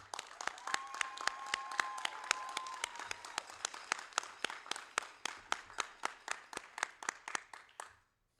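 An audience at a naval school graduation ceremony claps in a brief, even round of applause. The sharp claps are close and fairly loud, thin out toward the end and stop abruptly.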